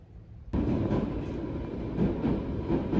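An Isle of Wight train running from Ryde Pier starts up after a brief quiet moment, then a close, steady rumble of wheels on rails carries on with faint rhythmic clatter.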